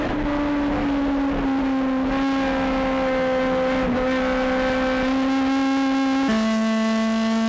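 A Toyota AE86 race car at full throttle at Tsukuba circuit in a 1999 N2-class battle, its engine a loud, steady droning howl that holds its pitch for seconds before a sudden drop near the end.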